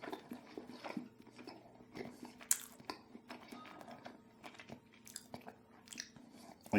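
Close, quiet chewing of Prairie Tomme mild melty cheese with dried cherries, soft wet bites and mouth sounds repeating irregularly with no talking over them.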